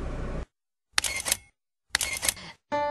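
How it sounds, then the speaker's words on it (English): A single-lens reflex camera shutter fires in three crisp, close bursts separated by silence, as media volunteers photograph work in the Sanling Dai village. "As the shutter clicks away,"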